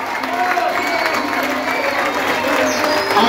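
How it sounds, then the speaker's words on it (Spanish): A concert audience applauds teachers and students, with sustained clapping mixed with crowd noise and some cheering, and voices murmuring underneath. "Fuerte el aplauso para todos los profes,"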